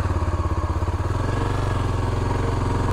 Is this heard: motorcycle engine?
yes